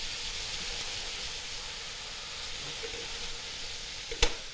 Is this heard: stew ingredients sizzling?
yes